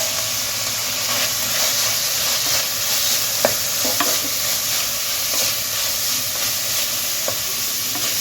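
Small pieces of carrot and tomato frying in a pan for a ridge gourd and chana dal curry, a continuous close sizzle and steamy hiss with a few faint scrapes and taps of a spoon.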